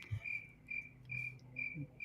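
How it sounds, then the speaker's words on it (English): Crickets chirp in a steady, evenly spaced series of short trills, faint and quiet against a soft low background, with no voices. "Crickets."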